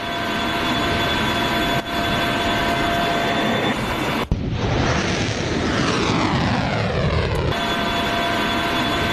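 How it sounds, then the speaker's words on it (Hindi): Hezbollah attack drones are launched, with a loud, continuous engine drone that sweeps past with a falling pitch and is broken by a few sharp bangs, with no voices. "ड्रोन देख रहे हैं आप कैसे इस वक्त लगातार लॉन्च कर रहा है हिजबुल्लाह"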